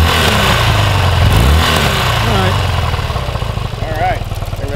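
A 1982 BMW R65LS motorcycle engine runs close by, a loud steady idle with a brief rise in revs, while people talk over it.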